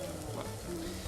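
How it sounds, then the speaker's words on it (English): Steady sizzling and frying of several dishes cooking on a stove in the Cook, Serve, Delicious! video game, a continuous faint crackling hiss with no voices. "A lot of stuff cooking on the stove here."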